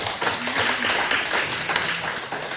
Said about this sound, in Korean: 영광의 박수를 드리겠습니다.